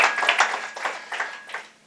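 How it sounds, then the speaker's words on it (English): An audience at a public policy talk on inequality gives a brief round of applause, scattered clapping in a few bursts that quickly thins out and fades within two seconds. "Let's give them a big round of applause."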